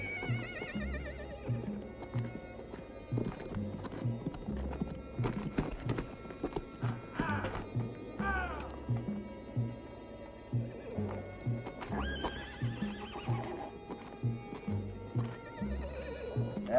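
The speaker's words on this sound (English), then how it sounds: "All them nice horses." Several horses whinny and neigh over a steady clip-clop of hooves, with snorts and thumps mixed into a busy, moderately distant scene.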